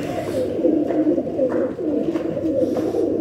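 A chanda khani pigeon coos in a steady run of low, throaty, rolling calls, close and continuous with no talk over it.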